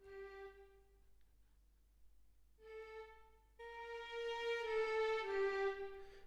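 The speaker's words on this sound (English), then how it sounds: "turn up the drive, and it sounds like this" A violin run through a saturator with the drive turned up and the output turned down plays sustained bowed notes. Each note sounds bright and buzzy with rich overtones, and the lines build from single tones to a fuller, louder passage.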